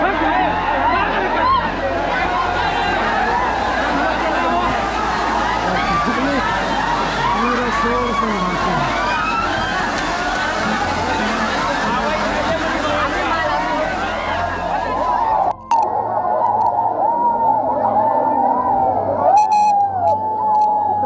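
A noisy crowd of people at Kakolat waterfall in Bihar, a dense loud babble of many voices and shouts over a constant roar of falling water, continuing steadily until it drops away abruptly near the end.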